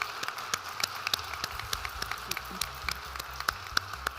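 Applause rings out at a hospital awards ceremony, a steady wash of many hands clapping with sharp individual claps standing out across the hall.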